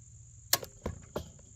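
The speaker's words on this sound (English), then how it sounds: "Waiting for the pressure switch to click." A well pump pressure switch clicks off, giving three short, sharp clicks about a third of a second apart over a faint steady background tone, close and quiet.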